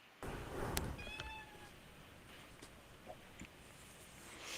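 A cat meows softly indoors, a short quiet call followed by faint rustles and small sounds in a calm room.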